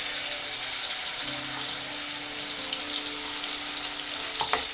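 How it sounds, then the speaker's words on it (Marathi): Rajma sabji cooking in a pan with freshly added masala and cumin, a steady close sizzle of frying and sautéing that runs throughout, with a faint stirring scrape near the end. "आणि चांगलं परतून घेऊया"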